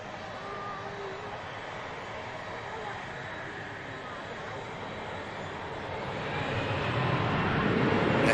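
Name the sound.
aircraft lining up, bound for Tenerife South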